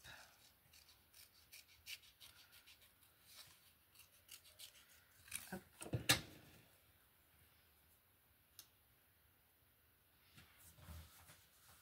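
Quiet, close snips and rubbing scrapes of scissors cutting out sea-themed craft pieces come in short irregular bursts, with a louder crisp cut midway and soft paper rustling between.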